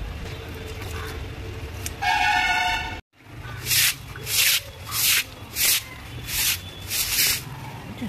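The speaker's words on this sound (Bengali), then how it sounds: "এবার আমি ব্লিচিং দিচ্ছি, দেখো আমি ছড়িয়ে রেখে দিলাম, এবার আমি ঘষে নেবো" Floor in front of a gate being scrubbed with bleach, a run of rhythmic brush strokes, about seven loud rasping sweeps in steady succession after a brief scraping burst and a short silent gap.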